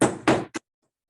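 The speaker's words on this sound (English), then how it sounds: "I'm actually going to switch for this purposes of this demonstration, just to show you to my more fine-tooth hammerstone at this point." A fine-grained hammerstone strikes a small piece of copper. Three close, dull knocks sound in quick succession, the last one short and lighter, and then it goes silent.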